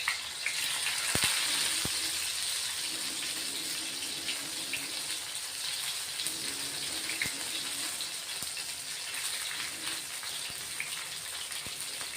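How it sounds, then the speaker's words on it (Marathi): Green chilies sizzle in a little hot oil, a steady crackling hiss with occasional sharp pops, continuous and close, with no talking. "आपण आता मिरच्या त्याच्यात तळून घेणार आहे"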